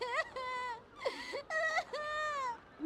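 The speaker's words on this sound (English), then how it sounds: "There's a child crying somewhere." A child wails and sobs in the video game Radiata Stories, several drawn-out crying bursts with short pauses between, clear and fairly close.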